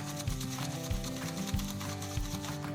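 Dalgona coffee mixture being beaten in a bowl: a steady whirring drone with evenly spaced soft knocks about every half second, close and fairly quiet, no talking.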